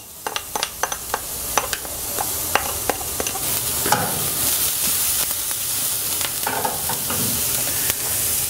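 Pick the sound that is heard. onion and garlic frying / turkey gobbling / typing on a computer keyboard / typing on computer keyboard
onion and garlic frying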